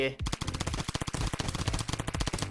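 AK rifle fire in the zombie survival shooter Zombie Raid rattles out in loud, rapid automatic bursts, near and dense, with barely a break between shots for over two seconds.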